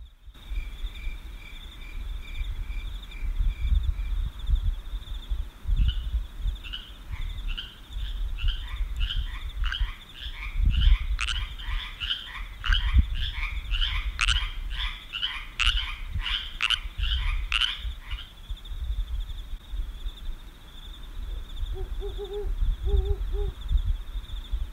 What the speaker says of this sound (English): Make sure to stay quiet so we can hear the nocturnal animals of the night.